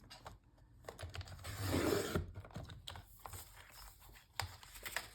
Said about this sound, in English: Let me get out my cutter here. I think I'm going to cut this one down a little bit.